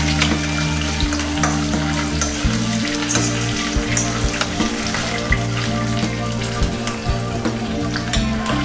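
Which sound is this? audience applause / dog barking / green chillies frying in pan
green chillies frying in pan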